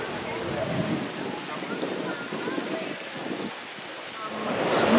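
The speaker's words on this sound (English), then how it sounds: "We're on the beach. This is the Atlantic Ocean." Atlantic Ocean surf at Myrtle Beach, South Carolina, a steady broadband wash of breaking waves with wind noise across the microphone, swelling louder toward the end.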